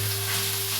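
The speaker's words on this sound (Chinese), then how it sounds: "我建议大家分开倒入，翻炒个几秒后再倒入下一个蔬菜。" Vegetables for borscht sizzle steadily in a hot pan during stir-frying, a continuous close frying hiss with no talking.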